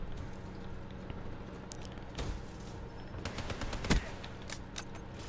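Gunfire in Call of Duty: a steady stream of faint shots and brief bursts rattles throughout, with a sharper, louder burst near the middle and another toward the end, no voices over it.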